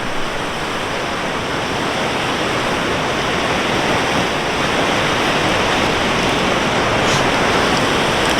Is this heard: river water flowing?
yes